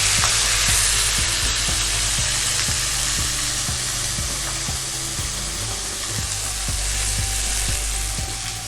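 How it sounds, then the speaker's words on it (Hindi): Ground onion and garlic fry in hot oil for dhaba-style chana daal, a loud continuous sizzle up close with faint regular scraping ticks from stirring and no speech. "और इसको अच्छी तरह से हम भूनेंगे।"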